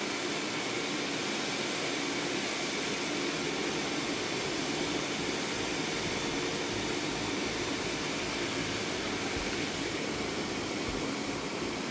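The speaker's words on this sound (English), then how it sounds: "You roll it out, connect it to the blower, and boom, it sets itself up." A 450-watt air blower inflating a Christmas-themed bounce house, a loud steady rushing roar of air that stays constant from start to finish, with no talking.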